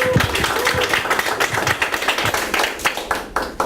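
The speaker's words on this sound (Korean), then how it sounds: "뜨거운 박수로 말씀 들어보도록 하겠습니다." Audience clapping at a Green Party candidate debate, a dense, loud patter of many hands close to the microphone, sustained throughout and gradually thinning toward the end.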